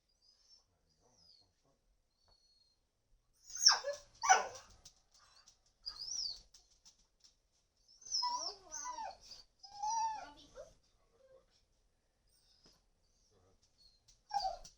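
A dog barks and whimpers in short, scattered bursts, several sharp yelps and whines close by against an otherwise quiet background.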